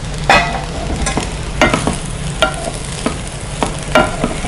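Spatula stirring and tossing Kerala-style prawn fried rice, about 200 grams of rice with a quarter kilo of prawns, in a hot pan. Regular loud scraping strokes roughly twice a second ride over a steady close sizzle.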